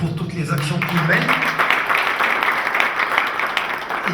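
Applause breaks out at a dentistry and implantology congress in Africa, starting as a voice trails off and swelling into steady clapping from an audience that holds for several seconds.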